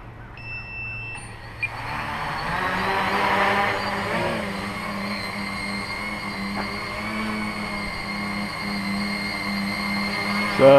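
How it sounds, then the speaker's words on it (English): A multirotor brushless motor runs at full throttle on a test stand, giving a steady, loud, continuous whine and hum that holds for about nine seconds, with a sharp click near the start and a louder pop at the very end. "we're going to do a test at full throttle and hover voltage"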